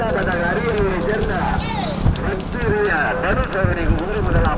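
Hoofbeats of horses galloping in a twelve-horse race in Tamil Nadu, a fast clip-clop running under continuous excited commentary and crowd voices.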